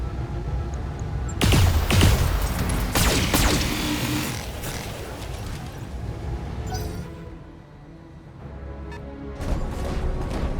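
Battlemechs fire their weapons in a Battletech battle, a heavy volley of booming, thudding impacts and blasts that swell loud early, ease off, then return as more bursts near the end.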